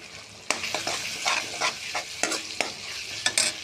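Green chilies sizzle and hiss steadily in a hot pan while being stirred, with repeated sharp scraping stir strokes over the frying, no voices present.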